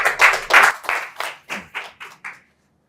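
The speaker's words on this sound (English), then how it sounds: "Please a round of applause as we welcome him up." A small audience at an SPE technical session in Lagos claps to welcome section chair Oladipo Ashafa, a handful of distinct close bursts that quickly thin out and stop.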